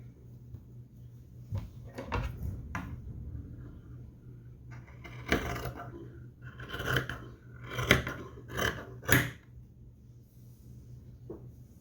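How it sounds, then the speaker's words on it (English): Scissors snip through folded skirt fabric in a series of short, close, crisp cuts, irregularly spaced and clustered in the second half, against a quiet room with a faint steady hum. "I'll fold it over to make sure I cut it straight here and same here."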